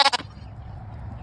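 A goat bleats loudly twice in quick succession near the start, then the sound drops away to quiet low background.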